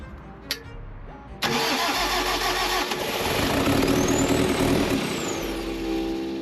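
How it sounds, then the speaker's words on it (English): An excavator diesel engine cranks over and fires, catching after a brief click and settling into a loud, rough, steady running rumble close by, with a faint whine rising over it. "Want to fire it up again? See if it'll fire."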